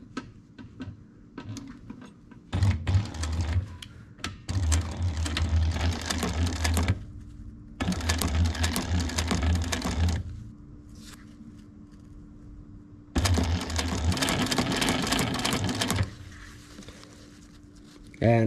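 A sewing machine stitches purple and gray fabric pieces for a zip pack, running in three long bursts separated by short pauses, close and fairly loud with faint handling sounds between runs.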